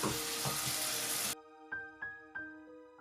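Ginger-garlic masala paste with tomato puree frying in a pan for fish shorba: a steady, bright sizzle for the first half that cuts off abruptly, followed by a few soft plucked tonal notes.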